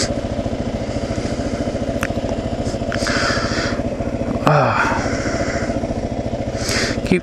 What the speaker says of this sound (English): My idle seems to be a little high, and I'm like, yeah, it's a carbureted motor in the wintertime.